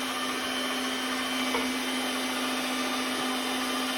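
A meat grinder minces meat for pâté with a steady, droning motor hum and a constant grinding texture, close by and unbroken, with no voices.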